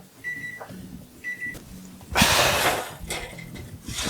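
Short electronic beeps from an oven timer repeat several times, with a burst of hissing noise and kitchen clatter in between.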